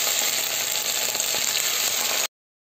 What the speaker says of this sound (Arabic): هسه نبدي نحمس البصل والزيت شوي.